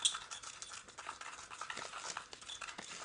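A whisk stirs a powdery mixture in a bowl, making faint, quick, uneven scraping and tapping strokes that come close together, with no voices.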